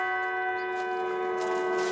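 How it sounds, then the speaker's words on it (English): Church bells toll at a funeral in Prince Albert, heard as a soft, sustained ringing with layered tones that linger with no other sound. "Bells toll for Anthony Heffernan"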